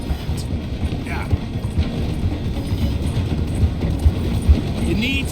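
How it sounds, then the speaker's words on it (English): A steam train in the game Red Dead Redemption 2 rumbles along the tracks as it slows toward a station, giving a dense low roll with scattered clanks and rattles. "The train is slowing down to go through the station."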